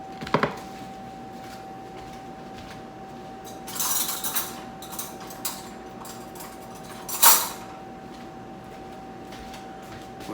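Cutlery on a plate while cutting garlic butter salmon: a few sharp clinks and scrapes of fork and knife, separated by quiet stretches over a steady faint background hum.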